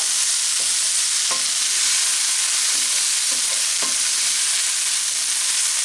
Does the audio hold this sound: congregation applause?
no